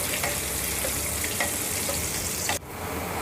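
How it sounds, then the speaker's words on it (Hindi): Finely chopped onion frying in a pan makes a steady, loud hiss with faint stirring taps, briefly dropping out near the end before the sizzle resumes. "प्याज को हम गोल्डन ब्राउन होने तक फ्राई करेंगे।"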